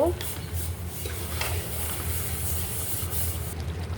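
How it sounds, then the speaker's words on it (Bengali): Goat meat being stirred into cooked spice paste in a pot, a steady scraping, rubbing stir with faint sizzle close by, no talk. "মাংসটা ঢেলে দিলাম মশলার সাথে ভালো করে মিশিয়ে নেব"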